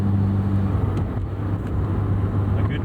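A Honda S2000 AP1 roadster cruising at night with the top down, steady low engine drone and road rumble, constant and fairly loud with no voices.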